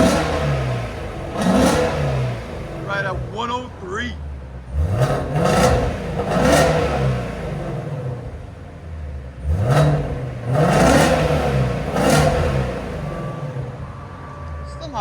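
Ford Mustang GT350 with the 5.2L Voodoo V8 and a titanium X-pipe exhaust, revved hard in several sharp bursts that rise and fall, loud and close, while a person speaks briefly between pulls.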